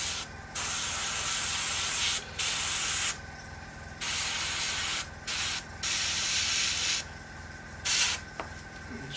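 Airbrush spraying black paint into the cockpit of an Airfix 1/72 McDonnell Douglas Phantom FG1 model aircraft: soft hissing bursts of varying length, stopping and starting repeatedly over a low steady hum, close and fairly quiet.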